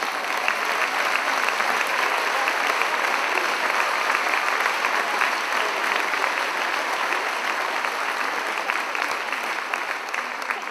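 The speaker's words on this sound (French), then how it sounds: "un tonnerre d'applaudissements pour Emmanuelle, la présidente de la Voix du Léman" Sustained, dense applause from a large audience honouring the president of La Voix du Léman at its 100th-anniversary Broadway-themed celebration, steady and loud throughout with no break.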